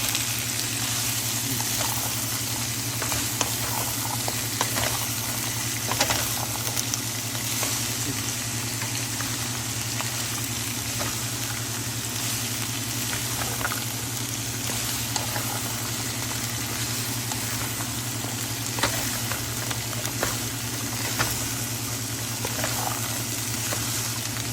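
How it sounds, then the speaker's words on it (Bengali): Celery fries in a pan with a steady, even sizzle throughout, a faint low hum underneath, and occasional soft scrapes and clicks as it is slowly stirred. "এরপর জাস্ট আমরা একটা নাড়া দেবো, আস্তে আস্তে করে নাড়া দেবো।"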